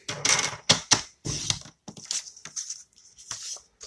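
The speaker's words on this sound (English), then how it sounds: "So what I would do was cut it 3 by 3." Paper cut into 3 by 3 inch squares for a Post-it note holder: a run of sharp, close snips and crisp slicing strokes in irregular bursts, loud and alone with no talk.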